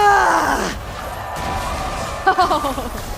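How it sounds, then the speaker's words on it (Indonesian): Crowd screams and yells from the playoff arena of an MPL Indonesia Season 12 esports match in Mobile Legends, loud and sustained, with a burst of cheering near the end and voices mixed throughout. "Ada jeritan-jeritan banget ya."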